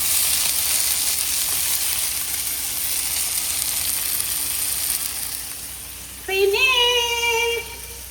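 Indian mackerel fries in a pan with a continuous, loud hissing sizzle, followed near the end by a short rising mechanical squeal as the stove is switched off.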